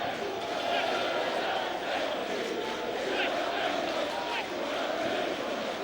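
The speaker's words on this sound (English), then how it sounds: "Bumper crowd inside the Pirelli. This is all about the Barrow fans." Barrow football fans cheer and chant in a packed stadium at the Pirelli during a 2008 play-off final, a steady, dense crowd roar that stays loud throughout with no gaps.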